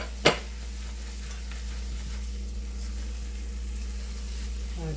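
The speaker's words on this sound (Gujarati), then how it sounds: "હવે આપણું ઘી છૂટે ત્યાં સુધી આપણે હલાવતા જ રહીશું." Carrot halwa being stirred in ghee with chopped cashews, almonds and raisins, a soft continuous sizzle under a sharp scrape of the spoon near the start, then quieter steady frying noise.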